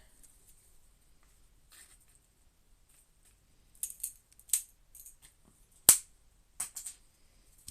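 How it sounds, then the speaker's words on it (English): Scissors snipping dream catcher material up close, a scattered series of short sharp clicks and snips separated by quiet pauses. "Alright, I'm gonna cut all these."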